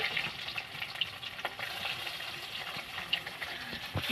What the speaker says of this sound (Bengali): এরপর আম্মু হাঁসের ডিম চিনের হাঁসের ডিম আর আলুগুলো ভেজে নেবে একে একে করে